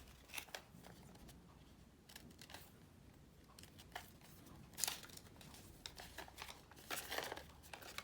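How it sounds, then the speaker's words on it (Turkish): Quiet, intermittent snips and crinkly cutting sounds of scissors working through folded cardboard, with soft handling noises between cuts. "Şu katladığımız yerlerden makasla kesiyoruz."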